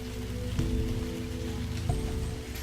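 Rain falls steadily in a kinetic novel game, a continuous wash of droplets over a low, layered background tone, with no voices.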